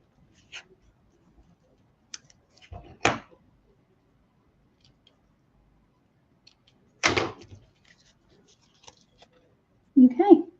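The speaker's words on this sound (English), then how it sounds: "we'll trim the excess off" Scissors trimming excess paper from a handmade birthday card craft, heard as a few short separate snips and cuts in a quiet room with brief gaps between them, followed by a faint rustle of handling at the end.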